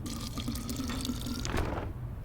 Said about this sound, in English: And some fresh drawn water.